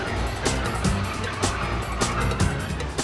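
Car chase from a Spanish action film, Torrente 3: a car engine roars with repeated sharp tire skids and squeals recurring in bursts, loud and close, over busy chase noise.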